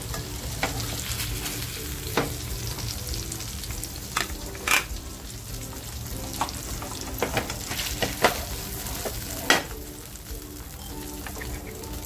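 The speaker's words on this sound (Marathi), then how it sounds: "इकडे बघा आपले बांगडे सुद्धा हाफ फ्राय झालेले आहेत" Mackerel half-frying in a small amount of oil in a pan, a steady crackling sizzle with occasional sharp pops and scrapes of stirring, close and continuous with no talking.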